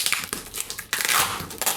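Close, loud crinkling and crushing of cardboard box packaging opened by hand, with bursts of rustling and tearing in quick succession.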